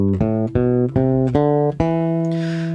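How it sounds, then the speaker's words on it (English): An E natural minor scale on bass guitar, six clear notes plucked one after another at an even pace, each ringing with strong low tones before the last note fades into a soft hiss. "Or you can think of it as an E natural minor scale, which sounds like this."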